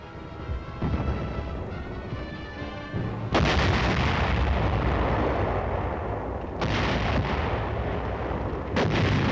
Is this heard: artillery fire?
yes